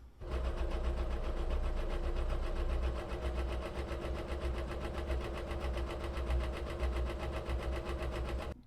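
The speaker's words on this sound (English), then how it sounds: "welcome back to the sewing machine. I'm going to sew the closest, tightest little seam I can along here" A sewing machine stitching a tight seam on a small doll apron, running in a steady, fast mechanical whir with rapid needle clatter, close and continuous after a brief start.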